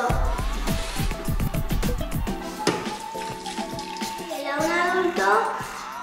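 Water is poured into a Thermomix jug holding tiger nuts for Valencian horchata. Close splashing and clinking come first, then a running gush, with a voice talking over it.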